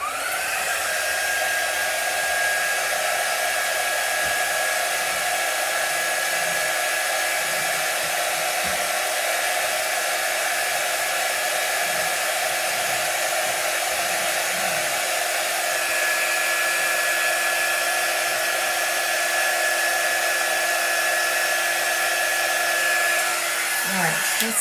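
A hair dryer blows steadily on chalk art for the whole stretch, a loud, constant close-up whir with no breaks.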